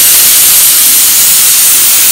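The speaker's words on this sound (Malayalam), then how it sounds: "ഇനി രണ്ട് വിസിൽ വന്നിട്ട് നമുക്ക് ഓഫ്." A pressure cooker cooking cucumber olan on a gas stove lets off its whistle as a loud, continuous, close hiss of escaping steam that holds steady throughout with no talk.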